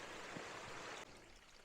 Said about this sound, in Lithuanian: Iš kalnų bėga toksai vandenėlis, labai skaidrus